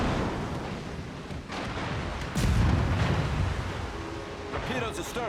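Warship guns in the World of Warships video game fire in heavy, rumbling booms, with a louder blast partway through and muffled thuds amid a constant low roar, while a voice talks over it.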